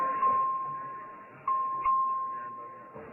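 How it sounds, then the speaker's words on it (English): A chamber bell rung by the clerk to call a record vote in a legislative session, a steady ringing tone that sounds repeatedly with brief sharp restarts over about three seconds. "The clerk will ring the bell."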